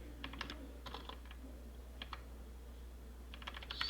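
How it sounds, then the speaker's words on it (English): Keys clatter on a computer keyboard as a command is typed into a Windows Server PowerShell remoting session, coming in short, quick bursts separated by pauses, close and moderately quiet. "we have to type in this command"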